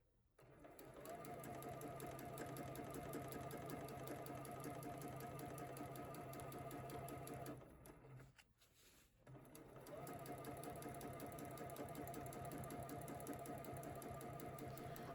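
A sewing machine stitches free-motion quilting on a test piece in a steady, loud, close-up run. It pauses briefly partway through and then resumes.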